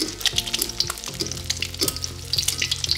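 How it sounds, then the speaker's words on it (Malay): Eggs deep-fry in plenty of very hot oil, crackling and sizzling continuously with dense, bright popping spatters and a few clinks of a utensil, close and clear throughout. "Goreng cara macam ni, anda akan dapat telur yang garing di bahagian luar dan lembut di bahagian dalam."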